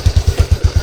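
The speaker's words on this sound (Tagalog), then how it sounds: "First time kong sumakay sa motor ni Kevin na si Katuba ang nag-drive po." A motorcycle ridden on a road with a passenger aboard, its engine putting out a rapid steady low thump, close and loud.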